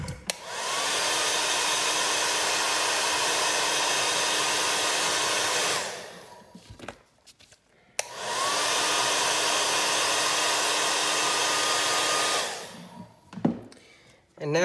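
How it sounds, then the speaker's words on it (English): A hair dryer blows steadily on a prop weapon blade in two long bursts, each running about six seconds with a brief quiet gap between, loud and close, with a soft rising whine as it spins up. "now we're gonna hit with the hairdryer again"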